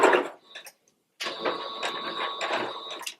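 A sewing machine stitches the final seam of a puff quilt. A brief burst opens, then after a short silence the machine runs steadily and close with a faint whine, stopping near the end.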